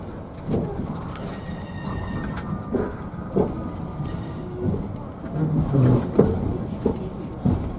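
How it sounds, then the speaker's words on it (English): Steady rumbling of the Mile One Express train at the B&O Railroad Museum rolling along the rails, with rhythmic clacks and knocks over a constant low roar and faint background voices. "they are on a train"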